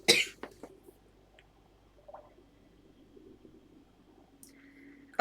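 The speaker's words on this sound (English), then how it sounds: "talking is making me cough too much" One short, sharp cough from a person right at the start, close to the microphone, followed by near silence in a quiet room.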